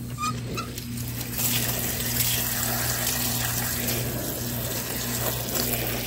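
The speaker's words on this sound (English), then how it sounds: "we'll start filling this bucket with water" Water runs steadily from an outdoor faucet into a bucket, a continuous hissing splash with a low mechanical hum underneath and faint birdsong in the background.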